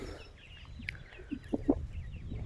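A chicken kept in a cage clucks in a few short, soft bursts over a low background hum, fairly near but quiet.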